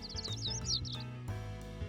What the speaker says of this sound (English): Outside my window, I hear birds.